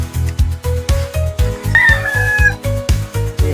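A rooster crows in a long, rising call near the middle, standing out over a loud, steady rhythmic beat of music that runs throughout.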